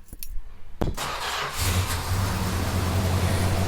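A car engine cranks with a couple of short turns, catches and fires, then settles into a loud, steady idle with a low rumble that swells slightly as it revs, close by with no talking.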